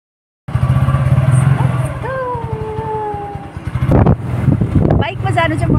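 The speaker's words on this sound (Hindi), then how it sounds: "आज चाहिँ बाइकमा जान्छौँ हामी है." A motorbike ride in Nepal on the way to a river: a steady engine drone with wind rushing past the microphone, while people talk over it throughout.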